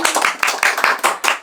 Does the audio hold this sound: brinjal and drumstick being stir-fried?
no